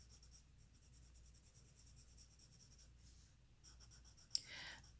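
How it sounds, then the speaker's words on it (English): Soft, continuous scratching of a light pencil shading across paper, faint and close, steady for several seconds with a slightly brighter stroke near the end, no voices. "I start with my lighter pencil, and I shade in here, or shadow in here."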